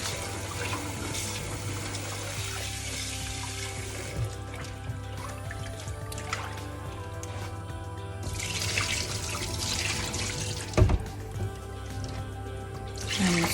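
Tap water running into a kitchen sink while raw chicken is rinsed in vinegar or lemon juice water, a continuous splashing stream with occasional drips and clinks, one sharp knock near the end.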